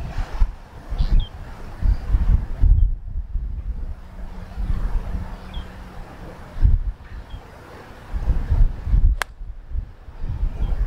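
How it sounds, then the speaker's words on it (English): Gusty wind buffets the microphone on an open golf course, with low rumbling surges rising and falling in waves and briefer lulls between them, no talk. "Wind just changed."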